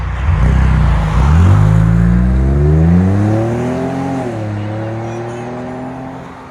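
A Ford Edge ST with a twin-turbo 2.7-liter EcoBoost and muffler delete: the loud exhaust revs up, its raspy drone rising in pitch, then easing back down and settling into a rumbling idle.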